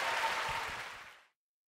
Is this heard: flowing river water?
no